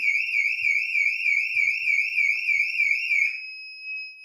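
A Siemens alarm system sounds a loud, close electronic siren that warbles rapidly up and down without pause, then cuts off abruptly, leaving near silence.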